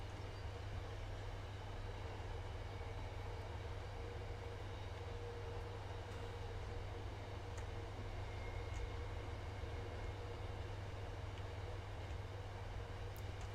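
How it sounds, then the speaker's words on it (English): CSX freight train passing on the MBTA Framingham/Worcester Line in Train Sim World 5, a steady low rumble and rolling drone holding evenly throughout with no talk. "There's another train coming back down the line."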